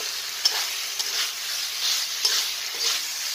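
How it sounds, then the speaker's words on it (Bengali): Food sizzling and frying in a pan, stirred with a utensil in an uncovered pan, giving a steady hiss with a few scraping strokes spread over several seconds, no talking. "এটা নাড়াচাড়া করতেই হবে, আর এর মধ্যে সেদ্ধ হয়ে যাবে"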